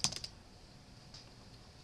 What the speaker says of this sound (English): you can work in the command window using the edit, by typing in edit